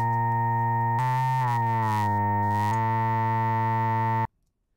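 A steady, buzzy modular synthesizer tone rich in harmonics holds for about four seconds, its timbre sweeping and wobbling midway, then cuts off abruptly.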